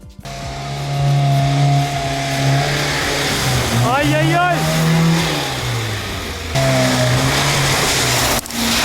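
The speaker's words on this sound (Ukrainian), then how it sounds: "далі ми поїхали дріфтити" An old Lada car engine revs hard and whines through gear changes as the car drifts in snow, loud and close, with a person exclaiming over it.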